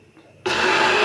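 After a brief quiet moment, an electric mixer switches on abruptly and whirs loudly and steadily through chocolate cake batter made with oil.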